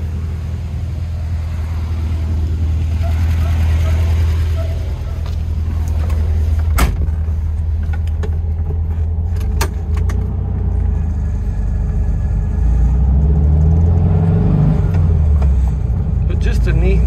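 A 1971 Volkswagen Type 3 drives along with its engine droning as a steady low rumble, road noise and occasional clunks mixed in, while a person talks over it.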